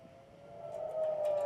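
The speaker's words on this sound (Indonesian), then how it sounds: "Sirine peringatan dibunyikan militer Israel saat Iran meluncurkan serangan rudal" An Israeli military air raid warning siren sounding during an Iranian missile attack, a steady wailing tone heard from a distance that grows gradually louder over a faint background hush; no talking.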